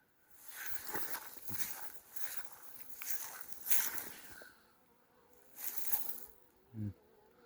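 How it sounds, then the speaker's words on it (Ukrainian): Honeybees buzzing close by at outdoor hives in repeated swells, each buzz rising and fading as insects fly past, with quiet gaps between. "А з цієї сторони бджоли почали вискакувати."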